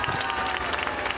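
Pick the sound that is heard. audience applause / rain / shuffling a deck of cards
audience applause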